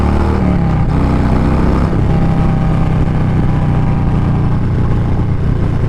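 A Harley-Davidson Street Bob 114 with a Stage 1 upgrade, accelerating in second gear: a loud, continuous V-twin drone with a rising pitch, close and dominant throughout.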